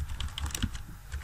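Typing on a computer keyboard, a quick burst of light, close key clicks over a little more than a second, with no voices.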